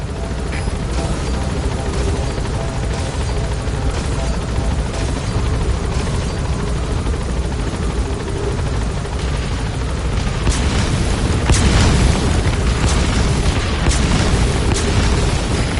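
A helicopter in the video game Metal Gear Solid V: The Phantom Pain gives a loud, steady rotor roar throughout, with heavy booms and bursts layered on top that swell toward the end.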